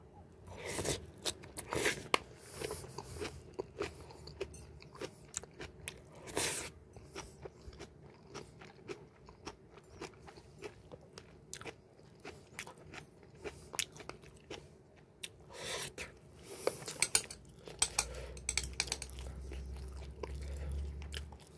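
Someone eating kimchi and fried eggs up close, with a steady run of crisp bites, crunches and wet chewing sounds that come in irregular bursts over a quiet background.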